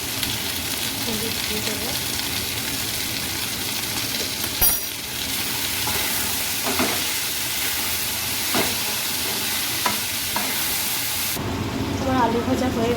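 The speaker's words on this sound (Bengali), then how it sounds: "প্রথমে আমি আলুগুলোকে ভেজে নেব" Potatoes frying in hot oil give a steady, loud broadband sizzle that runs continuously, with occasional utensil knocks and someone talking over it.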